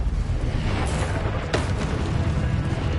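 The Incendio fire spell bursts in Hogwarts Legacy on PS5: a steady, dense roaring rush of flame that flares briefly near the middle and keeps burning loudly to the end.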